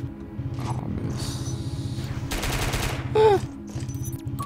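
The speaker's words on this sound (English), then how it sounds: "We've got some sort of auto shotgun, slug. Ooh, frag. I'm gonna go with the frag shells." Auto shotgun firing frag shells in the game Cortex Command: a rapid, evenly spaced string of shots in bursts, with a louder blast partway through and scattered game effects between.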